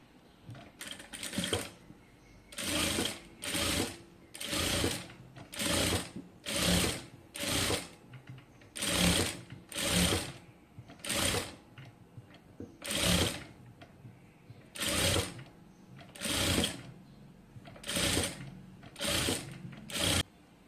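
Sewing machine stitching a folded sleeve in a tailoring session, running in about fifteen short bursts of rapid stitching separated by brief pauses, close and steady with no talking.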